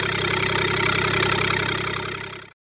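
A Kubota D722 diesel engine runs at a steady idle with an even, rapid chugging pulse, loud and close, then cuts off abruptly into silence.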